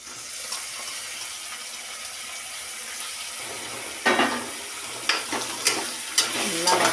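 Small chopped tomatoes sauté in a pan, a steady sizzle holding for a few seconds before louder bursts of frying and scraping stir strokes break in near the end, with no talking.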